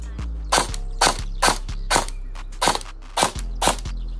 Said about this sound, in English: All right, this is semi-auto. I got a 38 TPA motor.